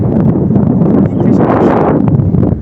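Strong wind buffets the microphone on a riverside char by the sea, a loud, continuous roar with gusty fluctuations, and a voice is faintly audible beneath it.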